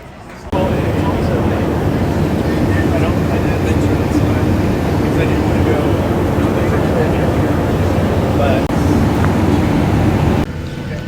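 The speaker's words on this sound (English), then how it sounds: "we are landed. And now we're taxiing to the spot." Airliner taxiing on the runway after landing in Tampa, a steady loud low rumble of engines and cabin noise running throughout, with occasional voices in the cabin.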